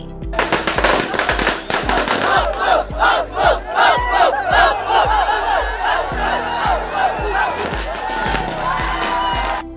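A crowd of fans cheers and shouts at a midnight birthday celebration while firecrackers burst in rapid, loud crackling volleys, continuous and close throughout.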